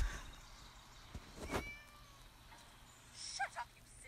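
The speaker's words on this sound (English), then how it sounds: "Shut up, you silly cat." A cat meows in the video game Scary Teacher, one clear drawn-out meow near the middle followed later by a couple of shorter, higher cries over a quiet background.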